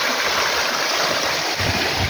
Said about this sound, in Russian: Это из-под земли бьет эта вода.